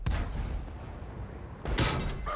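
A T-34 tank takes a hit and is destroyed in World of Tanks, with a loud booming cannon blast at the start, a sustained rumbling roar, then a second sharp explosive burst near the end.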